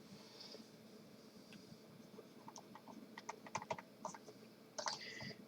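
Quick, irregular keystrokes on a computer keyboard, close and fairly quiet, in short bursts with a faint hum underneath and no talking.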